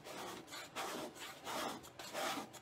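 A paste scraper scraping old paste off a surface, repeated short rasping rub strokes in an uneven rhythm, close but quiet, with no talking.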